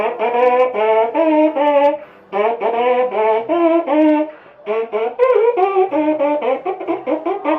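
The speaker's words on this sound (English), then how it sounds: "You buzz your lips, you buzz into the mouthpiece," Buzzing lips in a trombone mouthpiece, played alone as quick runs of short pitched notes in three phrases, each note slightly nasal and reedy.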